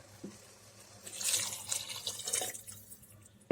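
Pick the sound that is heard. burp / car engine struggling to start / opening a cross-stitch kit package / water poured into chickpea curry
water poured into chickpea curry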